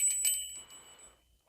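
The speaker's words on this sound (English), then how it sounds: "it's a bell that I use for cleansing" A small cleansing bell is struck, giving a bright metallic ring with a couple of quick strikes at the start that fade into a soft, lingering tone, heard alone up close.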